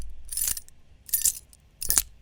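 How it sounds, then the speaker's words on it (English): Three bright metallic jingles of keys, unprocessed foley, each a short shaking burst of clinking metal, spaced roughly evenly and fairly quiet. "the keys without any processing"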